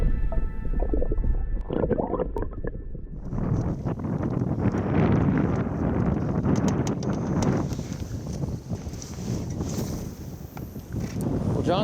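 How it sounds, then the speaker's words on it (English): Strong gusty wind buffets the microphone on Laurel Lake during a spring bass fishing trip, a loud low rumbling roar that swells after a quieter opening and keeps blowing steadily, with some water and boat noise underneath. "John, they told us the wind was coming."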